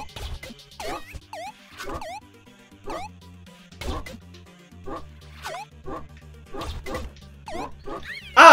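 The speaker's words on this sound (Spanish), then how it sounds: "El puto perro, tío." A video game dog barks and yips in repeated sharp bursts with whimpering cries, close and loud over a low droning game background, with a voice talking at times.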